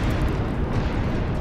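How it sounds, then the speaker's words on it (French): Continuous low rumbling of distant small explosions in a steady series, thick and muffled, with no distinct close blasts and the roar of a nearby fire blended into the din. "une série de petites explosions tonne encore à l'est"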